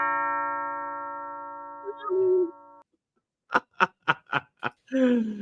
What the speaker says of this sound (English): Oh, the bell is working.